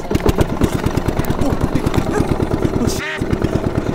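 A motorized bangka outrigger boat's engine chugs close and loud in a rapid, even rhythm, with a brief sharp thump near the end.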